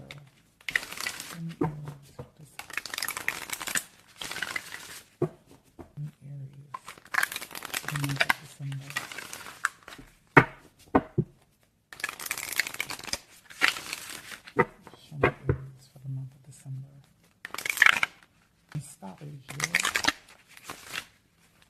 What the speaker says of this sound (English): I'm going to shuffle them again on camera